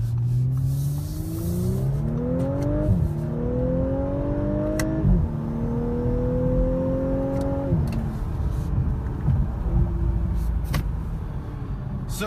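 A 2018 Audi S5 with Quattro all-wheel drive accelerates through its gears toward a 6,500 rpm redline, engine tone climbing in rising sweeps with quick drops at each fast shift, heard steadily from inside the cabin.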